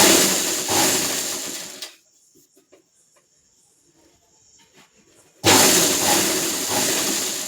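A sewing machine stitches along a blouse edge in two loud whirring runs, the first about two seconds long, then a quiet pause with faint handling noises, then a second burst.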